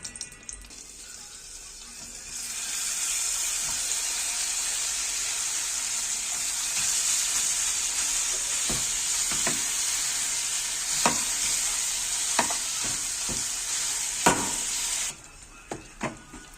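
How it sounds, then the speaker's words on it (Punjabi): Khoya roasts in two spoons of ghee in a pan for suji khoya laddu, giving a steady close hissing sizzle that runs for most of the stretch, with occasional sharp spoon taps toward the end. "ਦੋ ਚਮਚੇ ਘਿਓ ਪਾ ਕੇ ਇਹਦੇ ਵਿੱਚ ਆਪਾਂ ਖੋਆ ਭੁੰਨਣਾ"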